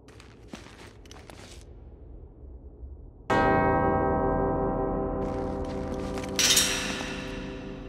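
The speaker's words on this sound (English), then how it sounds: "Two bells resound in perfect harmony." Bells ringing in the video game Uncharted: Drake's Fortune: after quiet footsteps and shuffling, a loud, resonant bell strike booms out at once and rings on with a long, slowly fading sustain, with a second metallic clang near the end.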